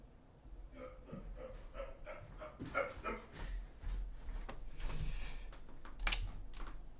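Indoor dog giving several soft barks, yips and whimpers at moderate distance, irregular and fairly faint over a low background hum.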